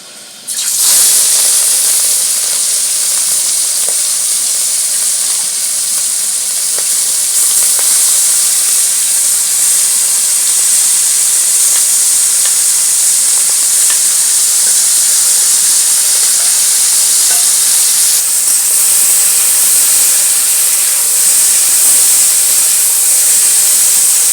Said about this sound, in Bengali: আমি এইবারে এর মধ্যে চিংড়ি মাছগুলো ছেড়ে ভেজে দিচ্ছি